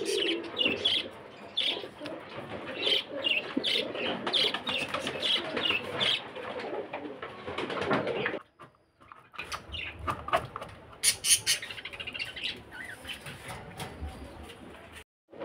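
Desi chickens and other birds in a coop cluster, clucking and cooing close by with scattered chirps, steady for about eight seconds before a short lull, then resuming in quieter bursts; a voice may speak faintly underneath.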